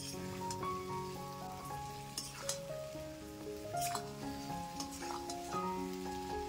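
Olive pickle with jaggery and fried spices is stirred in a pan, giving a soft, steady sizzle and light scraping beneath melodic background music.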